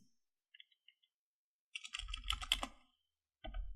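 Keys clack on a computer keyboard, a few sparse light taps followed by a quick burst of rapid typing, a pause, then more typing resuming at the end, close and fairly quiet.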